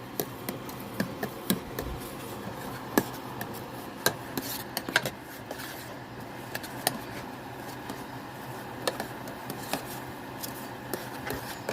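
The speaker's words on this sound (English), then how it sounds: "Now let's stir all that good glaze up." Pineapple butter glaze stirred in a bowl, a soft continuous scraping and rubbing with scattered small clicks and taps of the utensil against the sides, close and fairly quiet, with no talking.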